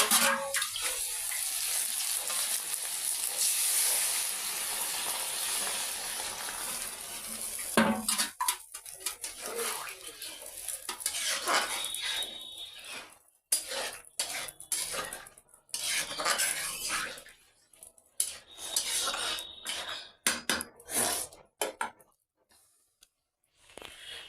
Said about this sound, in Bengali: এই যে রান্না বান্না তো করা শুরু হয়ে গেছে